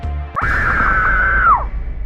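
A girl lets out a single loud, sustained high-pitched scream from her room that holds steady for over a second before trailing off, following a sharp bang.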